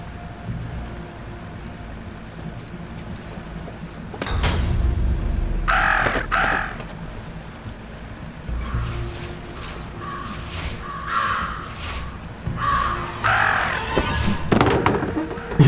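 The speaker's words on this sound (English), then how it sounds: "Talk about a murder of crows." Crows cawing in the adventure video game Jenny LeClue: several harsh caws from a flock, scattered irregularly over rumbling game ambience with rain and thunder-like noise and occasional mechanical sounds.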